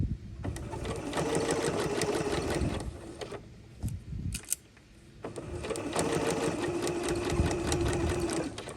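A sewing machine runs a straight stitch in two steady, continuous bursts of fast mechanical whirring, pausing briefly in the middle before stitching again, close and clear with no talking.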